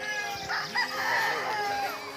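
Rooster on a small backyard farm crowing and clucking close by, a short busy burst of fowl calls over a constant background.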